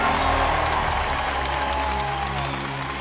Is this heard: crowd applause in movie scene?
yes